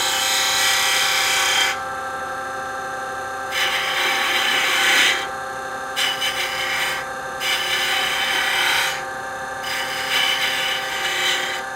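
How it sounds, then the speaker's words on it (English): A sharp-pointed spindle detail gouge cuts wood on a lathe for a bell ornament, making rough scraping and rasping bursts that start and stop over a steady machine hum. "I'm laying the bevel on the wood and then bringing up the handle to get a cut, and then rolling it over."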